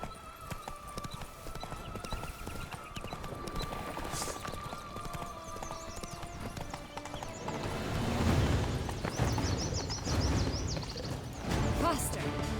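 A horse gallops in The Witcher 3 video game, its hoofbeats drumming steadily under game ambience, with neighs and a louder crash of movement toward the end.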